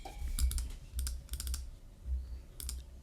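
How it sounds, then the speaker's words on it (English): Close-up computer keyboard typing, recorded through a FiFine K678 USB microphone, in short bursts of quick clicks separated by brief pauses, over a low background hum. "a little bit of the ASMR of the keyboard"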